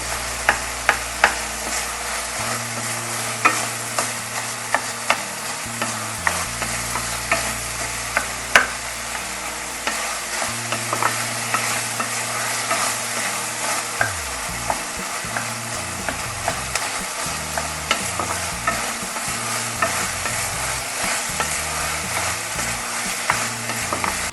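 Tomato pieces fry in a pan for Indian-style pasta, a constant sizzle under repeated close scraping and clicking strokes of a spoon stirring, with no talk.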